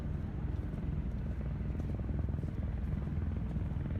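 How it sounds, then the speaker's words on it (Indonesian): A helicopter heard as a steady, dense low-frequency rotor and engine rumble that stays constant and fairly loud throughout, with no other distinct sounds. "Itu dia helikopternya."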